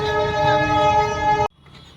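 A train passing beside a football field in Kokrajhar sounds its horn in one loud, sustained blast. The blast cuts off abruptly after about a second and a half, leaving quiet outdoor background.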